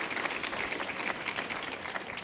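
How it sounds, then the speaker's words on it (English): Applause from a conference audience at a housing, transportation and jobs summit, a steady wash of crowd clapping, fairly faint and distant, continuing without a break. "Round of applause."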